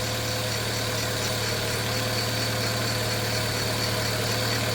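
A 2013 Dodge Dart engine idles at a steady, continuous drone with a low hum and constant vibration, close and fairly loud throughout with no voices.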